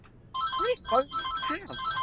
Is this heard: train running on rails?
no